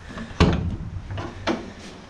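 Big door on the back of a welded aluminum import camper opening, with a sharp loud clack followed by softer knocks and a second thump about a second later.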